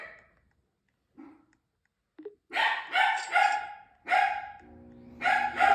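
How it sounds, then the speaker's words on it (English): A dog barks at a robot vacuum indoors, several sharp bursts in irregular clusters after a few faint yips, fairly close and clear, with a low mechanical hum underneath. "don't mind my dog in the background. He's barking because we have like this robot vacuum"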